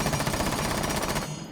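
Automatic gunfire from Bandit's compensator-equipped weapon in Rainbow Six Siege, a rapid, evenly spaced burst of loud shots that stops abruptly near the end.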